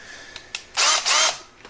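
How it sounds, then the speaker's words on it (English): A power drill bores a hole into the body of a cheap 1970s Les Paul copy guitar, with two loud sustained whirring bursts after a few small clicks. "So I'm gonna drill a hole where that hole goes, so this can lay flush against the body"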